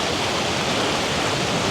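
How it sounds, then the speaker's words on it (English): Sea waves crashing against cracked coastal rocks, a dense, loud, continuous roar of surf and spray close by, filling the whole stretch without any voices. "beautiful waves crashing against those rocks."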